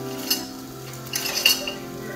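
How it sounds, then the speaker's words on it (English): Onion dip mixture of sweet onions and green onions with butter, gently stirred in a pan, a few soft scrapes and light clinks of the utensil against the pan over a faint hum. "Give that a gentle stir."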